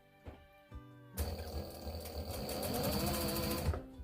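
An upholstery sewing machine with a piping foot stitches piping in a quiet workshop. Its motor whirs steadily for about two and a half seconds after a few soft handling taps.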